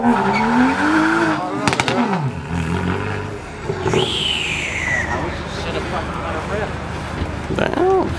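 A tuned BMW with extreme camber revs and accelerates hard, tires squealing in rising and falling screeches, while excited voices shout over the engine noise.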